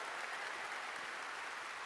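A church congregation at a Korean Sunday afternoon service applauds with steady, dense clapping that sounds faint and somewhat distant for about two seconds.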